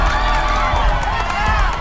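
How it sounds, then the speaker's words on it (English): A crowd in a New York street cheers and shouts as a violent crime unfolds, a loud, dense roar of whoops and yells with scattered voices mixed in. "Crowds cheer while violent crimes play out."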